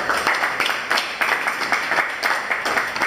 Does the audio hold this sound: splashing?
no